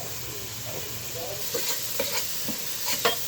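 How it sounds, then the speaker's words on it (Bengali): Spices with turmeric and salt sautéing in a pan for beef curry, a continuous close hiss of sizzling oil with a few soft scrapes and taps of a stirring spoon, no voices. "মশলা কষাতে গুঁড়া দিয়ে মশলাটা কষাতে হবে"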